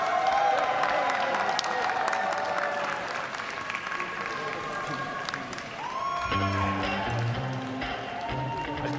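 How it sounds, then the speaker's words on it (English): Crowd at a European cooking competition final applauds in a steady, dense wash of clapping. Voices and event sound mix in, and a tonal sound rises over it toward the end. "So I would give a great applause to Estonian supporters by the rest"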